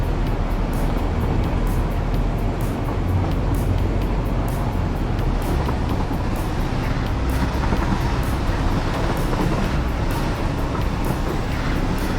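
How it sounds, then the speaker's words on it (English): Fast-moving train in the factory-building game Satisfactory, a steady loud rumbling drone with rhythmic clatter that runs continuously for the whole stretch, with no voices over it. "It's actually a pretty fast train. We're going 115 kilometers per hour."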